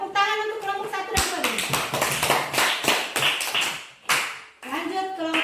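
A classroom group claps for the first presenting group, a burst of uneven hand claps with children's voices and speech around it, close and moderately loud.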